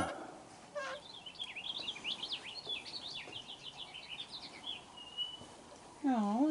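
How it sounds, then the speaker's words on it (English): Birds singing outdoors in a long, busy run of quick, high chirps and warbling phrases at moderate distance, with a soft voice briefly audible at the end. "Oh, listen to the birds."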